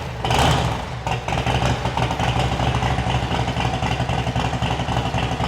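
A 1989 Harley-Davidson FXR with a Bassani 2-into-1 exhaust fires up and settles into a steady, deep, loping idle close by, the engine running alone without speech.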